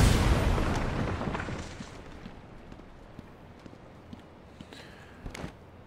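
A Batman: Arkham Asylum explosion opens with a loud, broad blast that fades into a long rumbling tail, followed by faint scattered thuds and clicks.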